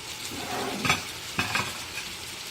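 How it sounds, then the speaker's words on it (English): Two cups of rice stirred in a pot of melted butter for jambalaya, a steady soft sizzle with a couple of scraping stirs of the spoon, close and alone. "I'm just going to stir that around a little bit so all the seasonings and flavors that I put in here will mesh together"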